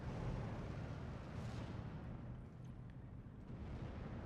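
A 105 mm artillery shell fires in the Steel Division 2 video game, a low rumbling boom that rolls on for several seconds amid steady battlefield noise.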